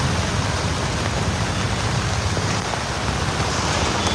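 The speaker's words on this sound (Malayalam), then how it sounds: "നല്ല മഴയുണ്ട് നല്ല മഴയാണ്" Heavy rain pours steadily and loudly near a roadside shop in Kerala, a dense unbroken hiss with no pauses and no voices.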